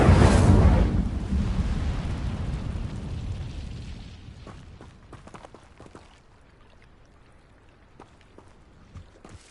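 Incendio fire spell cast in Hogwarts Legacy, a loud roaring whoosh of flame that bursts at once and rumbles down over several seconds into a low crackling tail, with faint scattered clicks near the end.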